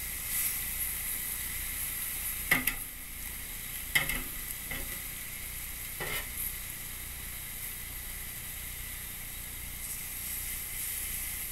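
Steak sizzles steadily in a cast iron pan, a faint constant frying hiss broken by a few sharp clatters and scrapes of utensils against the pan.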